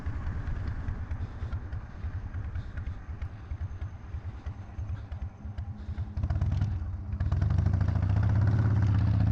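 A chopper motorcycle engine runs steadily and close while riding, with a low throbbing rumble that rises in level and grows heavier toward the end as the bike accelerates.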